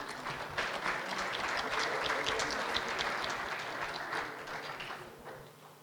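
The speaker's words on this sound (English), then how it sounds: "We can hear a round of applause." A round of applause fills a conference hall at the Kuwait 4th Flow Measurement Technology conference, steady clapping from a seated audience swelling in the first seconds and easing off toward the end, without any talk.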